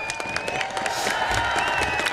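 An audience at a governor's inauguration ceremony applauds and cheers, a steady patter of clapping with scattered whoops, moderately loud and continuous.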